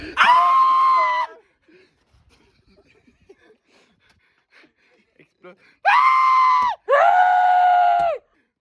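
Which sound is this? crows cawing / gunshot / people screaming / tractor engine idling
people screaming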